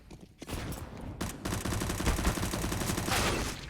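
Rapid gunfire rattles in a Counter-Strike match on the Mirage map, where pistols are in play. After a brief lull, a dense, sustained burst of shots overlaps into a loud, continuous barrage.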